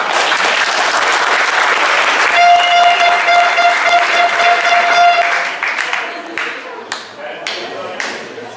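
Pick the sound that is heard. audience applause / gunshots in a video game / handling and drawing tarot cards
audience applause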